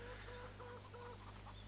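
Chickens in Farming Simulator 17 on the Altenstein farm map give soft, short clucks over a constant low background hum.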